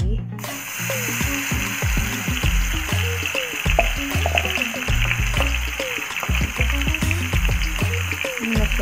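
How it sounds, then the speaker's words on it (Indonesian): Garlic hits hot cooking oil in a pan and frying starts right away, a dense continuous crackle and sizzle with irregular pops and clinks that runs steadily throughout. "Kalau sudah panas, kita masukkan bawang putih."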